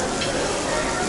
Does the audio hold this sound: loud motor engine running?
no